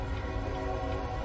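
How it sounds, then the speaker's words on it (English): A train approaches with its horn sounding, a sustained loud, steady tone layered over rumbling rail noise throughout. "There's a train coming."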